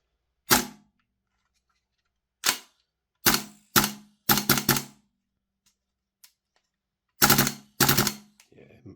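A Tokyo Marui SLR B15 PDW gas airsoft gun fires a series of sharp cracks, some single and some in quick bursts, with silent gaps between them, as though the magazine is running low on gas.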